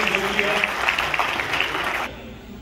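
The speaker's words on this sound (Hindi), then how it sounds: "बहुत बहुत सारी तालियां होनी चाहिए हमारे लिए" Audience applause at a Namal University fundraiser event, a steady wash of clapping hands running for about two seconds before fading out abruptly.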